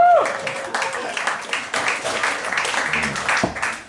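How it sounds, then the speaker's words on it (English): A comedy club audience at a live cabaret show gives a short burst of applause that is dense and moderately loud, mixed with crowd voices and a brief tone at the very start. "Round of applause for the Reader, everybody."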